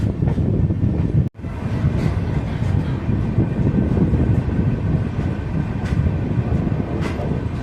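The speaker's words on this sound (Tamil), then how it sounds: "அங்கே பாருங்கள், சூப்பராக ஒரு டீசல் லோக்கோ WDP4" A WDP4 diesel locomotive rumbles steadily nearby, with a dense low-frequency roar and a brief dropout before the noise continues unbroken.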